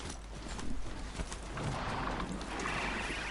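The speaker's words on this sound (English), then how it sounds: "It's like a weird horse thing." Hoofbeats of a horse-like machine creature in the video game Horizon, soft clip-clop steps moving through an outdoor soundscape with a steady ambient wash and faint bird-like chirps, fairly quiet and with no talking.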